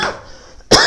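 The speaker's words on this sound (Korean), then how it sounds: "이렇게 기침을" A man with rhinitis gives two short coughs during a classroom lecture, one at the start and a sharper one near the end, close and loud with a quiet pause between.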